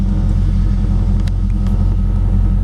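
A fuel-injected LS1 V8 engine in a 1957 Chevy 210 idles with a deep, steady low rumble, loud and close, with no speech.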